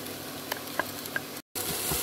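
Onion frying with garlic and ginger in a pan for Kerala-style fish pollichathu, a steady close sizzle with a few soft clicks and stirring taps, briefly cut to silence before resuming.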